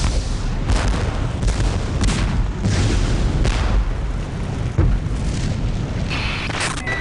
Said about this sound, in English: A massive explosion rocked central Pyongyang just minutes ago